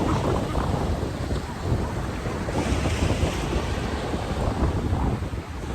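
Sea waves and wind at the Belgian seaside, a steady broadband wash of surf with gusting wind buffeting the microphone, continuous and loud with no talk.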